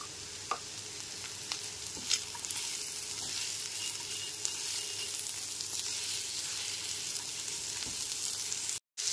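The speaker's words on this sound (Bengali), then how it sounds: "এরপর এতে দিয়ে দিচ্ছি কুচি করে রাখা ক্যাপসিকাম।" Chopped capsicum frying in a pan of chirer pulao (Bengali poha with vegetables), a steady close sizzle with a few faint clicks of stirring, no voices, cutting out briefly near the end.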